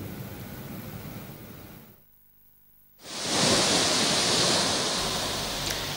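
High sea waves and strong wind batter the Buleleng coast in Bali, a steady broadband roar that drops out briefly, then returns louder with a hissing surf wash and no voices.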